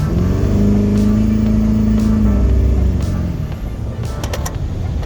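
An LB7 Duramax diesel truck fitted with a 3-inch intercooler pipe accelerates up close, its loud engine drone rising steadily for a few seconds, then easing off into a softer rumble.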